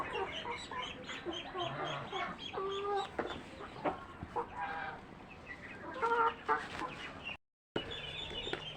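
Several hungry chickens cluck continuously at close range while eating wheat and maize feed, overlapping and busy, with a brief moment of silence near the end.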